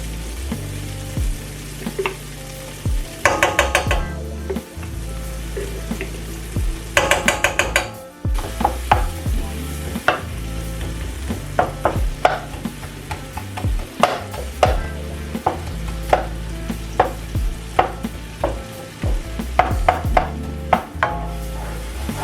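Onions and garlic sizzle in a hot pan as they are stirred, with a steady frying hiss broken by repeated scraping and clinking of a utensil against the pan, up close and with no talking.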